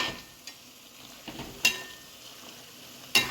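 Beef pieces are stirred in a pan for a Kerala beef varattiyathu, giving quiet scraping and soft sizzle with a few sharper spoon clinks against the pan, faint and close.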